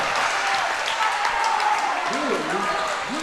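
A small crowd cheers and claps in a gym during a high school boys basketball game, a broad roar that holds steady while a commentator's voice comes through near the end.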